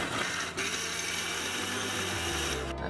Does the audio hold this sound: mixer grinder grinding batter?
yes